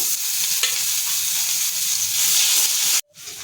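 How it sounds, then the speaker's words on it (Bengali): A crushed spice paste fries in oil with black cumin and a green chilli, giving off a loud, steady close sizzle and hiss that cuts off abruptly near the end. "একটু ভেজে নিচ্ছি"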